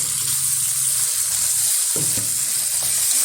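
Marinated mutton added to frying onions in a pan, a loud continuous hissing sizzle with a few stirring bumps, close and steady with no talk.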